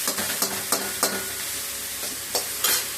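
Ivy gourd is sautéed in a pan with ginger and fenugreek, a soft steady sizzle broken by repeated sharp scraping stirs of a spatula at an irregular pace, close and clear.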